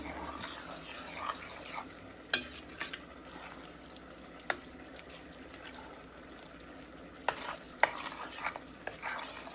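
A spoon stirs thickening halwa prasad in a pan with a steady scraping, swishing rhythm and a soft sizzle underneath, punctuated by a few sharp knocks against the pan's side.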